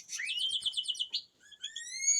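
Several pet canaries, posture and colour-bred hens, chirp in quick repeated trills and clear rising whistled notes, bright and close, with a brief pause before another sweeping phrase and no voices.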